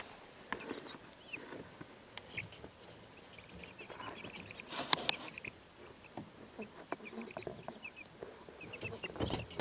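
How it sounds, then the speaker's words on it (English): Chicks peep softly in a snow-insulated igloo brooder at night, scattered faint chirps and clucky calls spread throughout, quiet and somewhat distant. "I hear happy peeping noises."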